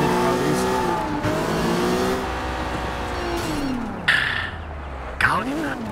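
A car engine revs in the Sleeping Dogs video game, a loud sustained drone that climbs and dips in pitch with gear shifts and bursts of acceleration, heard under a voice talking.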